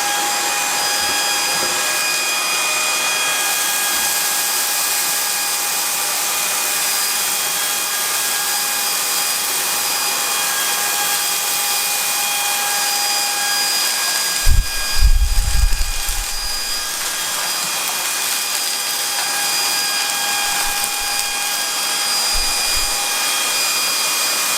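A Proscenic P9 cordless stick vacuum runs at maximum power with its hard-bristle brush, making a loud, steady high whine that holds throughout, with a brief rougher surge partway through.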